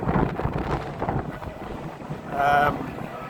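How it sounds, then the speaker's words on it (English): Strong wind blows in off the waterfront beside Everton's football stadium, buffeting the microphone in uneven gusts, with some faint talk mixed in. "It's also very windy."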